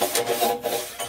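A long-handled rasp scrapes solder drips from inside an organ pipe, giving several short, rough rubbing strokes in quick succession, close and fairly loud, with no talking.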